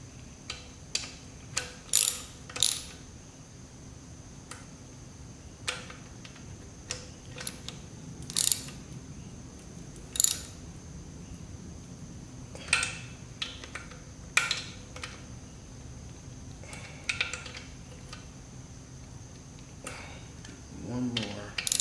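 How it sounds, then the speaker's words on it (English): A ratchet wrench torques down bolts on a V6 MerCruiser ski boat engine, with bursts of quick clicking ratchet strokes spaced out over a quiet, faintly humming background and occasional low voices. "You just want to torque it down to where it's tight."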